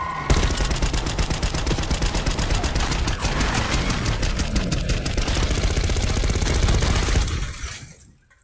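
Sustained automatic gunfire in the video game Call of Duty: Black Ops 6, a loud, dense rapid rattle of shots lasting about seven seconds before cutting off and fading out.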